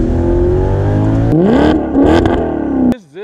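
A 2018 Maserati GranTurismo C Sport convertible revs loudly up close, its engine note climbing and holding in sharp rising sweeps before cutting off abruptly near the end, no talking.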